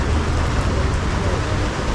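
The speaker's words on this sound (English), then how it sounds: "because it's raining now" Rain pours steadily onto a street in Pretoria's city centre, a loud, close, even hiss of falling drops with a low rumble beneath, continuing unbroken.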